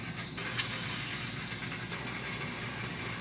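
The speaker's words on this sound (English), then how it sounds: "Spray the inside of that housing." Brake cleaner sprays from an aerosol can into the differential housing of a 2018 Duramax truck, a steady close hiss that bursts louder near the start and then continues as a softer, even spray.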